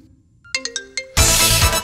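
A mobile phone ringtone for an incoming call in a Hindi-dubbed South Indian romance film: a few separate tonal beeps, then a loud, dense burst of ringing melody, close and clear with no voices over it.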